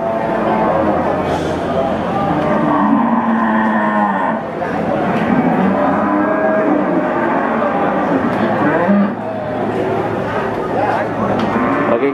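Limousin feeder cattle at a crowded cattle market in Central Java, loud close lowing and moos under a constant din of people talking and moving around.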